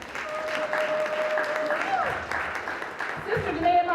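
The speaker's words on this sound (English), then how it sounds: "give her a round of applause." An audience at a keynote address applauds a university intern, a moderate wash of clapping under a held tone, with a voice speaking over it toward the end.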